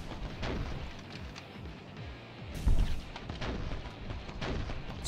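Shotgun fire in a video game, repeated heavy booming blasts over a dense rumbling battle din, one louder shot standing out midway, no talking.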